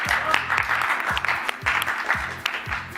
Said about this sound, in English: He just hears the clap and adds to it.